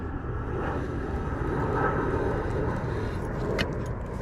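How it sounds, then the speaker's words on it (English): A low-flying airplane passes overhead at a park lake, a broad continuous engine roar that swells and fades slightly over several seconds, with faint clicks and nearby rustle, no talking. "I didn't know planes flew this low from here"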